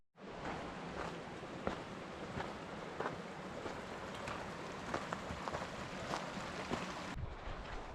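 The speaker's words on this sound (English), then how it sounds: "Small waterfall." A small waterfall in Yosemite National Park pours with a steady, broadband rush of water, continuous and fairly loud throughout, with no voices over it.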